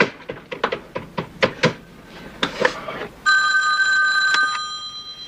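Telephone ringing after a number is dialed: a run of sharp knocks and clicks comes first, then a loud, steady electronic ring cuts in and holds to the end; no speech.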